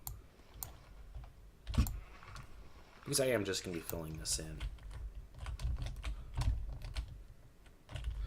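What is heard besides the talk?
typing on a computer keyboard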